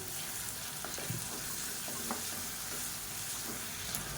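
Onions fry in a pan for a leftover idli masala, with salt added, giving a steady, close sizzle throughout. Faint stirring clicks sit on top and no one speaks.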